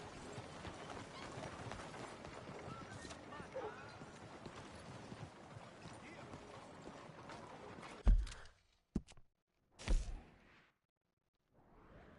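Steady clip-clop of horse hooves in Red Dead Redemption 2 runs continuously under wind and ambience, then stops, followed by a few sharp knocks and quiet.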